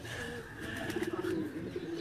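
Pigeons kept on a rooftop in Sialkot coo softly in a rhythmic, throaty pulse, close by, over a low background hum.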